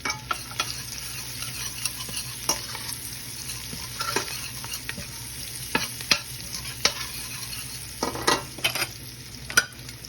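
Onion, garlic and turmeric powder stirred while frying in a pot, giving a steady sizzle under scraping spoon strokes and occasional sharp clicks against the pot, close and moderately loud with no talking.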